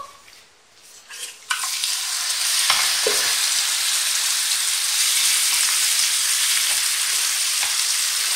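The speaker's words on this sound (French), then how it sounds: "je vais la cuire dans une poêle où j'ai mis un peu d'huile d'olive" Shawarma meat dropped into hot olive oil in a pan: a few quiet clinks, then a sudden loud, steady sizzle of frying that carries on close and even to the end.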